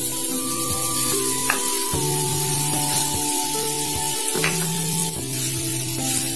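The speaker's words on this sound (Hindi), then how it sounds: "अब मैं इस मावा को हल्का गोल्डन कलर का होने तक भूनूंगी" Mawa frying in melted ghee in a pan on a gas stove gives a steady, close sizzle with occasional scraping from stirring, and no voices.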